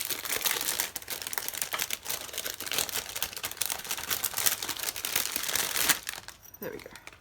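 Continuous crinkling and crackling of plastic packaging being handled and torn open, fairly loud and close, easing off near the end.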